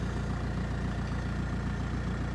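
An Audi A4 convertible's engine idles steadily after starting, a loud close low rumble with an even pulsing beat that holds without change throughout.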